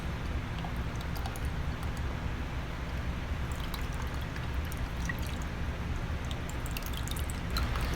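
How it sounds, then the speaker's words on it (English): Cucumber water, an agua fresca, pours steadily into a drinking glass: a soft, continuous trickling stream with faint splashes, heard up close and alone for the whole stretch. "now I'm going to go ahead and just pour you guys a glass of our cucumber water"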